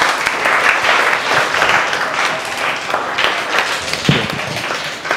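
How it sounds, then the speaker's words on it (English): Audience in a lecture hall gives a loud, dense round of applause, many hands clapping continuously and close for several seconds. "give yourself a huge round of applause"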